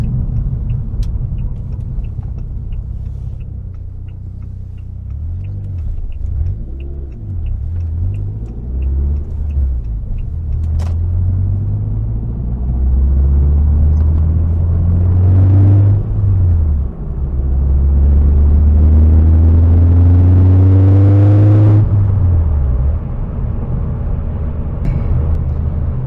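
A turbo-boosted car's engine hums at low speed as it is driven to warm up, then accelerates in several long rising pulls through the gears, with rumbling road noise throughout and no talking.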